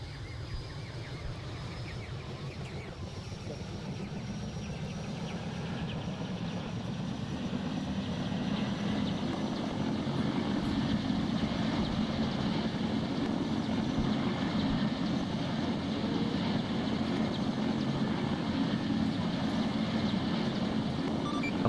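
Helicopter rotors and engine spinning up in a military video game, a steady droning whine that builds in loudness over the first several seconds and then holds at a constant level.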